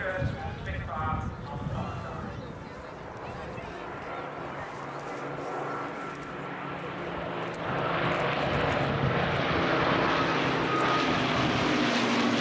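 Yak-11 two-seat trainer aircraft at an air tattoo show at Alconbury, its piston engine droning steadily and rising in loudness as it passes, with someone speaking over the sound.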